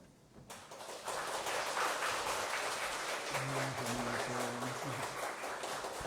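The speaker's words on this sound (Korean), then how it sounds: "따뜻한 박수로 목사님 맞이하도록 하겠습니다" A church congregation at a Sunday worship service gives warm applause to welcome the pastor, a broad sustained clapping that swells after a brief quiet start, with a low sustained tone underneath.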